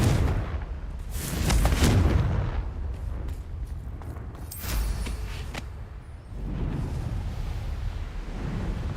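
Confringo fire spell in Hogwarts Legacy fires off as a run of deep booming blasts and bursts, loud and close, with rumbling tails between hits and no talk over them.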